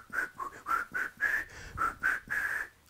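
Softly whistled melody, breathy and half-voiced like a whispered tune, a string of about nine rounded notes in steady rhythm, close and alone with no talk.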